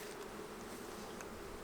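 Honey bees buzzing around an open hive during swarm-season hive management, a steady low droning hum, close and continuous, with no talk.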